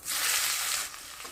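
Onions hitting hot oil in a pan with cumin seeds already tempered, a loud bright hiss that swells at once and then settles to a steadier, softer sizzle.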